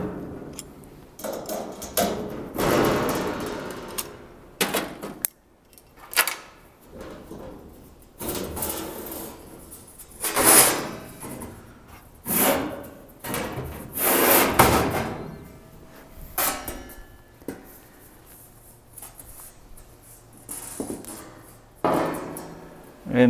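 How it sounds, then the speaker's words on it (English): Metallic clicks and knocks come from Cleco sheet-metal fasteners being pulled from freshly drilled panels during fabrication on an LS-swapped Ranchero, in irregular close bursts with quieter gaps between them. "I'm going to go ahead and remove these Clecos"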